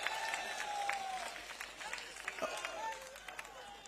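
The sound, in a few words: crowd clapping at an election rally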